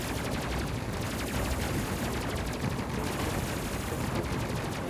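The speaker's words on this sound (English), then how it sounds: "Let's see that new gun in action." Rapid bursts of gunfire from a new weapon in the video game Space Crew, dense and continuous crackling shots at moderate level with no pauses.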